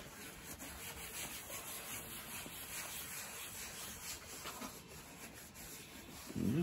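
Mink oil being rubbed into the leather seat of a Porsche 911 Carrera 3.0 gives a continuous close scrubbing and rubbing sound in steady strokes, with no speech.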